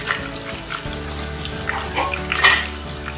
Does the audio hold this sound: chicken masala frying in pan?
yes